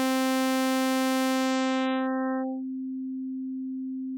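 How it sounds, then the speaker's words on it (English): A synthetic tone begins rich and buzzy, then its upper harmonics drop away one after another until only a pure, steady sine-like hum remains, ending with a brief click. "When there's only the fundamental frequency present, the outcome is just a simple sine wave."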